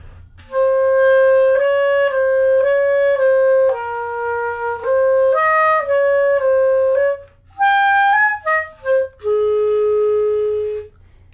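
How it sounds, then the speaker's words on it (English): A clarinet plays a slow run of sustained middle-register notes, loud and clear and heard alone, with a few short detached notes near the end before a final held tone. "the clarinet plays some notes that are kind of in the middle."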